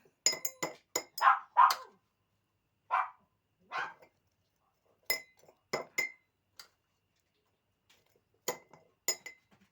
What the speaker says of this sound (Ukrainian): Тепер складаємо шарами в баночку баклажани.